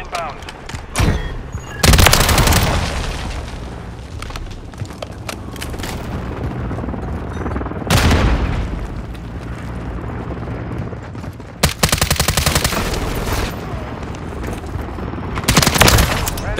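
Heavy video game firefight with rapid gunfire rattling throughout, punctuated by several loud booming explosions, and voices calling out amid the battle.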